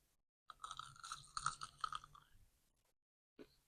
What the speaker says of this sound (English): Time for the crunch test.